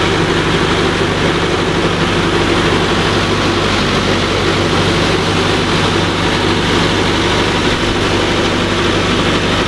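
A 4x4 tractor on a farm runs loud and close with a steady heavy low engine drone that holds even throughout, alone with no voices.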